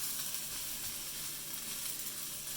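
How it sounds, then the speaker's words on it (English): Edamame stirred into fried rice in a hot wok gives a constant, dense hissing sizzle, even and unbroken throughout. "Stir in the edamame."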